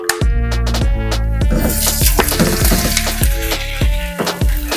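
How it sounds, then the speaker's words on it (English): A pound of ground turkey sizzles and crackles in a hot skillet for homemade skillet lasagna, with sharp spatula scrapes and clacks against the pan repeating close up over the frying, no voices. "Now we want to add our 1 pound of ground turkey."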